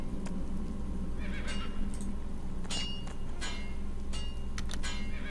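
A horse in a video game whinnies and snorts over steady background ambience, with light clip-clop hoof sounds and small metallic clinks scattered through the scene.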